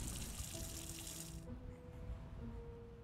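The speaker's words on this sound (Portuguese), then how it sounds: "Adicionar água." Crops get watered in the farming game The Last Farmer: a steady faucet-like pour hisses for about a second and a half, then cuts off, leaving quiet tonal game ambience.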